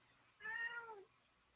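A cat meows once, a clear drawn-out call that rises and falls at close range in an indoor room, heard alone against quiet background.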